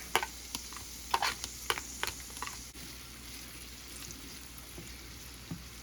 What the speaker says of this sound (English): Start with a little olive oil in there. Flavor that with a little bit of butter. Onions first.